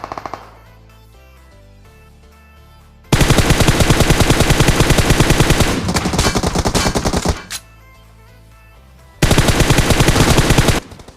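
Rapid automatic gunfire in PUBG Mobile on the Erangel map, loud close bursts of dense shots lasting a few seconds each, separated by a quieter stretch with faint background music.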